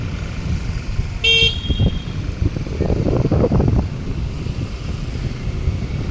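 Street traffic rumbles steadily outside a school gate, with one short car horn toot near the start and wind buffeting the microphone.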